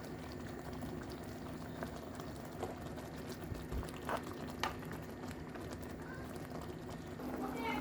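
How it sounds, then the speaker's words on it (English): Steak boiling in a pot with a teaspoon of soy sauce added, a steady bubbling simmer running throughout with occasional louder pops, close and moderately loud. "With our steak, boiling steak, put a teaspoon of soy sauce."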